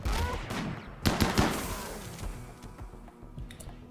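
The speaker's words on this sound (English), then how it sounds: "We are getting sniped." Sniper rifle shots ring out in a video game, a couple of sharp, loud cracks close together followed by fainter scattered reports and a trailing echo.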